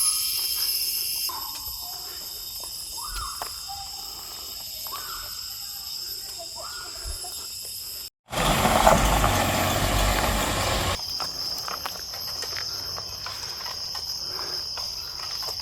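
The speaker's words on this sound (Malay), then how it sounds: "bunyi cengkerik pula, apa tu, bunyi riang-riang and bunyi burung" Dense, shrill insect chirring of crickets and cicadas fills the Gunung Tampin forest reserve in Malaysia, with a louder cicada burst partway through over a steady high buzz.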